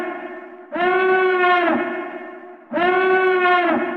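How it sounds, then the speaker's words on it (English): Two long, blaring electronic alarm tones, the Death Star alarm from Star Wars, sound one after the other, each a harsh buzzing blast about a second long with a brief gap between. "I'm of course talking about the Imperial alarm, or more specifically the Death Star alarm."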